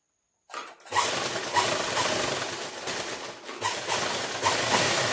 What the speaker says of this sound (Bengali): এইবার এটাকে সেলাই করে নেব।